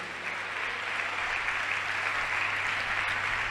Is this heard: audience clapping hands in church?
yes